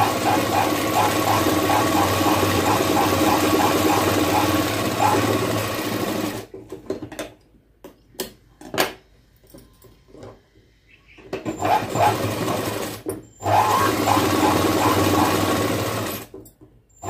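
Stitching the side seams of a blouse, a sewing machine runs in a fast, steady mechanical whir for several seconds, then stops, gives short bursts with pauses and handling noises, and runs steadily again.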